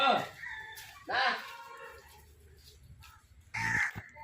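A few loud, harsh calls in separate bursts, with quieter calling in between and faint background noise.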